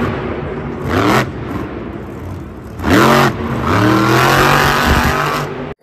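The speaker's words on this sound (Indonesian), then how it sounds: "Di sini kita sudah ada monster truck." Toy monster truck engine sound, a loud continuous motor whine with rising and falling revving sweeps, steady throughout and close.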